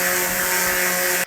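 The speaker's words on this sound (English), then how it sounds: "Not the preferred sander" A power sander on fiberglass repair work whines at a steady high pitch, loud and close, then cuts off abruptly at the end.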